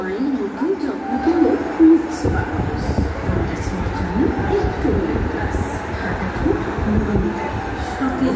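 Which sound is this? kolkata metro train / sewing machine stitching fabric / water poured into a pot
kolkata metro train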